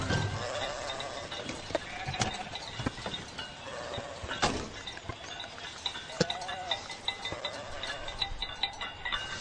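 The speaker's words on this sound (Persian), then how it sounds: "گوسفندانت رو یک طرف گیر." A flock of sheep bleat outdoors, many overlapping calls near and far in an irregular chorus, with shuffling and clicking hoof sounds beneath.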